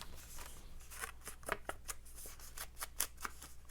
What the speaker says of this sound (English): cut a little notch like that